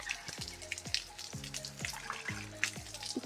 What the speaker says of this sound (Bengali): জল আসছে রে এভাবে ধুতেই হবে ধুতেই হবে